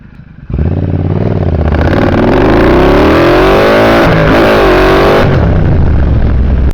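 A motorcycle engine, an HP engine swap fitted to a bobber, kicks in loudly and close after a brief quiet start, then revs hard under throttle with a rising, sustained roar and rattly mechanical clatter.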